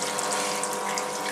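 Water from an aquarium sump pump rushes and splashes steadily as it is pumped up into the protein skimmer, a continuous close gurgling flow with no voices.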